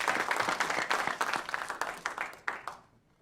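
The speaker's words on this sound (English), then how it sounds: "Have a round of applause for the young people." Audience applause after a call to clap for the young people at a conference closing panel: a dense burst of many hands clapping together, steady for nearly three seconds before thinning out and fading.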